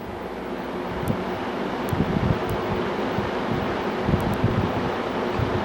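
A Superior Electric Superlectric box fan, model 2065-S, dusty but freshly cleaned and oiled, running on high speed with a steady, close, broadband whooshing drone and a faint low hum throughout.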